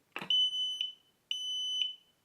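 A Grohe Sense water leak sensor set in a plate of water beeps loudly and shrilly, two sustained electronic tones about a second apart, each starting with a short rustle.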